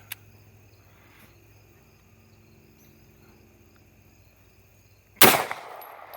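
A single loud, close gunshot from a pistol firing 9mm full metal jacket rounds rings out after several seconds of quiet outdoor ambience with insects.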